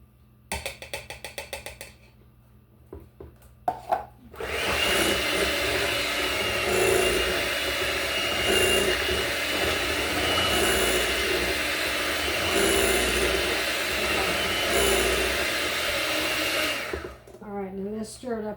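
An electric mixer whirs steadily through a custard pie filling with a whole can of evaporated milk, running continuously for about thirteen seconds after a few short knocks, with brief clatter at the end.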